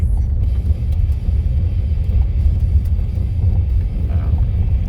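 A car rolling steadily along a gravel road in empty countryside, a constant low engine and tyre rumble with broadband road noise, close and unbroken throughout.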